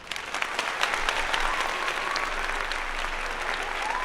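Sustained audience applause at a live show, dense steady clapping from a crowd, loud and continuous throughout.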